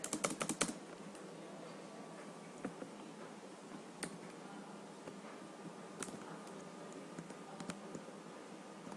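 Quiet typing on a computer keyboard while writing software test cases, with irregular soft key clicks and occasional louder taps continuing throughout, no voices.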